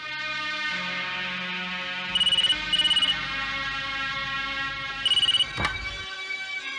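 A telephone rings in a tense Hindi crime-drama scene, three short bursts of trilling ring over a sustained musical background score, followed by a sharp hit.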